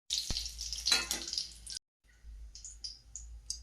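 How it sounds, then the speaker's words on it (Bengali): Green chilies fry in a pan with a bright, steady sizzle for nearly two seconds, then after a short pause a softer crackle and spatter returns with a few sharper pops. "লঙ্কাটা ভাজা ভাজা হয়ে গেছে"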